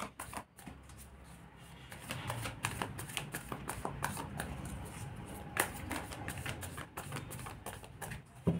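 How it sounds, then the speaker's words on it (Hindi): Tarot cards being shuffled by hand make soft, rapid riffling and patting, a steady quiet patter that runs for several seconds close by, with a faint murmur of voice underneath. "थोड़ा सा शफल कर रहे हैं बस।"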